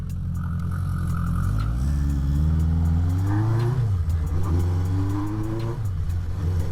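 A 1978 Kawasaki Z650 motorcycle accelerates through the gears. Its engine note climbs in pitch, drops sharply at each shift and climbs again, loud and close and steady throughout.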